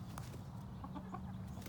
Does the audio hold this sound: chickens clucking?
yes